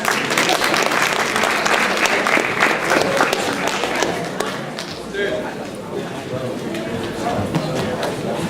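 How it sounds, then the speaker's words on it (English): An audience gives sustained applause for honor society inductees at a high school ceremony, with dense, steady clapping that fills the room and tapers slightly toward the end. "Let's give them a round of applause."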